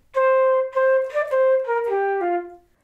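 A single flute plays a measure of a song, with a stepwise run of clean held notes that descends toward the end, close and steady over roughly three seconds and unaccompanied.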